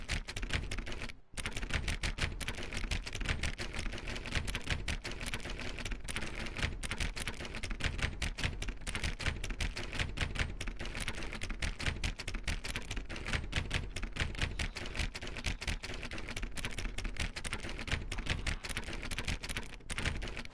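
Rapid keyboard clicking from The Stanley Parable rattles on continuously and densely for about twenty seconds, a loud, even clatter with one brief pause near the start.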